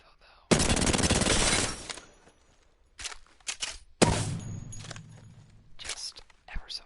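R99 submachine gun in Apex Legends firing two rapid full-auto bursts, each a loud dense rattle lasting about a second or more, with quieter clicks and handling noises between and after.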